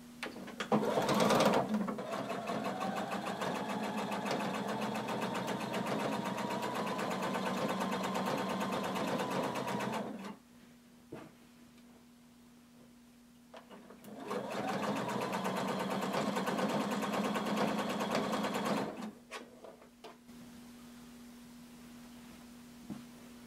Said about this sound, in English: then we're going to sew around our pocket.